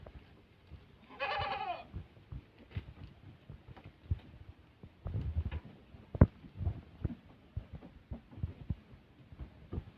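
Several goats bleat at a forest pen during feeding: a loud burst of wavering bleats early on, then scattered shuffling, thumps and faint animal noises, with no talk.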